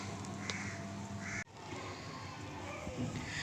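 A flock of crows caws in scattered, overlapping calls at moderate distance against steady outdoor background noise, with a sharp brief knock partway through.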